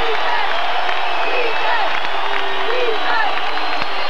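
Basketball arena crowd at a Lobos game cheering and roaring steadily as one continuous wash of noise, with whistles and whoops rising through it.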